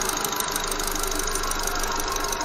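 A used car with an automatic transmission idles, its engine giving a steady, close rumbling hum with a squeaking fan belt, continuous for the whole stretch with no talking.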